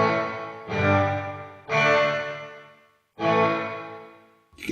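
Three separate struck chords ring through a Sonicake Pocketmaster room reverb with the mix fully wet. Each decays into a diffuse tail of reflections before the next one starts. The sound is clear, with no talking.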